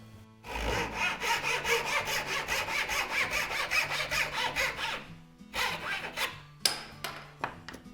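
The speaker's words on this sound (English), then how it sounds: "So we're going to cut off two little packers which will go underneath there" Handsaw cutting through a piece of timber for small packers on a 1/4 scale boat build frame, a brisk run of rhythmic back-and-forth strokes up close, then a few slower final strokes.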